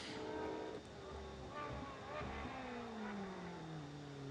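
A Ferrari 458 Evo Challenge mid-engine race car runs on the Jerez circuit, its engine note sweeping up and down in pitch as it passes, steady and fairly faint under a commentator's voice.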